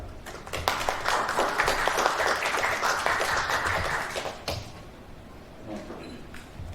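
An audience at a press event claps for the Journalists Association of Korea chairman as he is introduced: dense applause for about four seconds, then a quick fade to quiet room noise.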